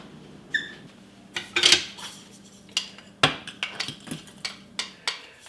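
A pot for homemade cranberry sauce is handled on a stove: sharp metallic clanks and clinks land at irregular intervals, close and distinct, over a quiet kitchen background.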